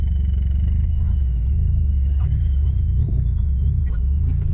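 A car with failed brakes and an e-brake that won't hold rolls backwards, producing a steady, close low rumble of engine and tires with a faint whine above and no one talking.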